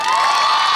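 A crowd at a motivational speech cheers and shouts in a brief, bright burst of many voices.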